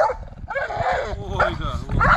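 An American Staffordshire Terrier grumbles and whines in low, drawn-out, old-man-like mutterings rather than barking, repeating in short bursts with a person talking close by.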